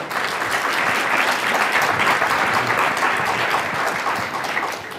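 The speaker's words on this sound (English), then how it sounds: "So I'd like you to give a warm round of applause for our entrepreneurs who are..." A room of attendees applauds entrepreneurs at an Entrepreneurship 101 session. Dense, loud clapping from many hands holds steady throughout, with only a slight easing near the end.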